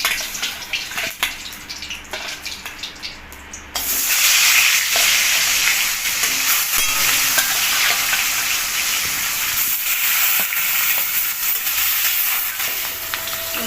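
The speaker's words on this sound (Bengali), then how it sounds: "তেল গরম হয়ে গেছে, মাছটা দিয়ে দেবো। মাছটা ভেজে নেব।" Fish rubbed with salt and turmeric hits hot oil in a kadai, a soft bubbling that suddenly swells into a loud, steady, crackling sizzle which holds for about ten seconds.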